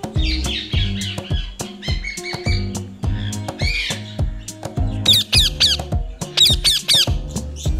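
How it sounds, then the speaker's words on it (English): A parrot gives a run of loud, harsh squawks and shrill screeches, repeated in quick irregular bursts and growing more piercing toward the end, close and without talking. "Parrot. And the sound of the parrot is..."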